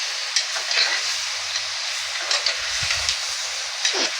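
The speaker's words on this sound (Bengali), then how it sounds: "একটু কষিয়ে নিচ্ছি।" Masala spices sautéing in a pan over a low flame while cooking tinda, a soft continuous sizzle with occasional light stirring clicks and a faint low rumble underneath.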